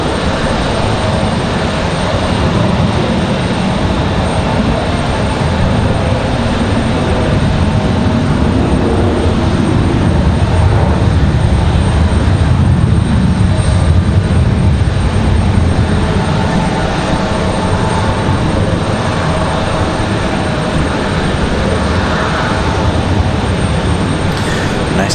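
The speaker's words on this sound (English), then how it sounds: "Nice departure for that CRJ." A CRJ regional jet in Republic Airways livery departs Raleigh-Durham International Airport, its engines giving a steady, loud broadband roar that holds for the whole stretch with no voices heard.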